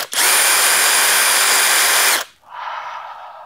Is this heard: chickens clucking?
no